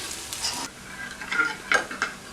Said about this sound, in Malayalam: കടുക് വറുത്തത് മോരിലേക്ക് ചേർക്കാം